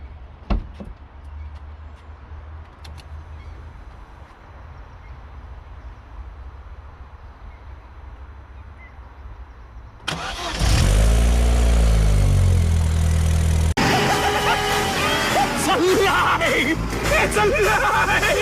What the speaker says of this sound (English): let's start the OPC CORSA VXR for the first time